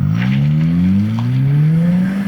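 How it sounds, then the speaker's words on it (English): A Lynk & Co combustion engine car accelerates, its engine note rising steadily in pitch as it pulls through the revs, heard from inside the car with no talking. "with a combustion engine car, the sense of performance is a little bit different"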